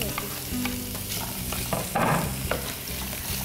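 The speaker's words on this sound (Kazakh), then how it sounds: "Қазір сіз нені қуырып жатырсыз? Мен бұрыш. Бұрыш және де тауықты." Pepper and chicken fry in a pan with a constant close sizzle, broken by occasional stirring and scraping sounds.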